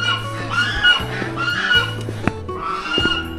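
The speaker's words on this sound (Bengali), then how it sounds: "ক্যাঁ ক্যাঁ করে রাজহাঁস ডাকছে।" Geese at a bird sanctuary in Pelling give loud, close, repeated nasal honks in quick bursts, with several calls overlapping and a brief sharp knock partway through.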